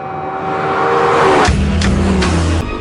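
A Lexus LFA engine revs sharply upward, then snaps through quick gear shifts, each followed by a rising roar, close and loud.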